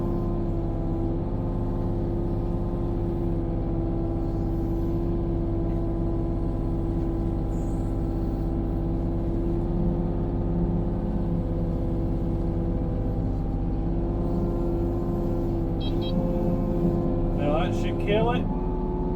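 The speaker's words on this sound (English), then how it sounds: "why not spool that thing up if you're cutting in something" A mini excavator with a brush cutter attachment runs steadily, its engine droning low and constant throughout, with someone talking over it and a few brief higher mechanical whines toward the end.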